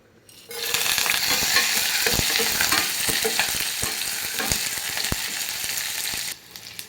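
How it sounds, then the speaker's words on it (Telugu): A tempering of dried chillies, curry leaves, garlic and onions fries in hot oil, sizzling steadily and close with a few stirring knocks, then cuts off abruptly; no one speaks. "తాలింపు చూసారు కదా వేగుతుంది"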